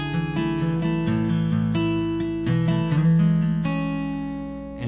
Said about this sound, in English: an instrumental of a couple guitars playing